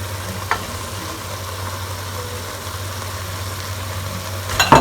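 Carrot halwa with khoya roasting in a pan, a low steady sizzle and hum throughout with a couple of brief stirring scrapes, one early and a louder clatter at the very end.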